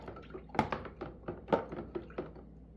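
Water splashing and dripping as dye is rinsed off fabric during a fade-dye job on a Vision FG racecar shirt, giving a run of close, irregular wet splashes and drips at moderate level.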